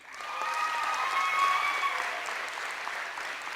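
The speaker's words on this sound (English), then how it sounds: "Let's hear it for Elise Peterson." Steady applause from a crowd at a high school girls' basketball senior night swells and holds for a few seconds, then tapers slightly, with no voices above it.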